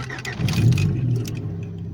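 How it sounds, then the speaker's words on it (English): Exhaust of a classic Honda car with a hastily patched muffler: a close, throaty engine note that swells into a brief rev and then settles to a steady, lower rumble. "Maybe this is the way that exhaust is supposed to sound."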